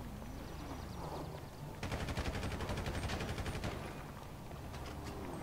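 Assault rifle fire in the video game GTA V: a dense burst of rapid automatic shots lasting about two seconds, loud and close, with a few scattered shots after it over a steady game background.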